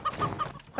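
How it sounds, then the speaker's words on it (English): Chickens cluck in the video game Moving Out, a few short, close, fairly loud clucks over game background sound. "It's a freaking chicken!"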